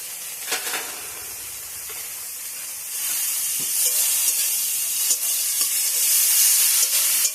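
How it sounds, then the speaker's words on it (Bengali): Prawn heads fry in hot oil with salt and turmeric, giving a steady close sizzle and hiss that swells louder partway through, with scattered scrapes and clinks of stirring and no voices. "এবার এটা খুব ভালো করে ভেজে নেব।"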